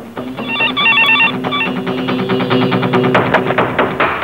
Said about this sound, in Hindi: तेरे यार का फोन होगा।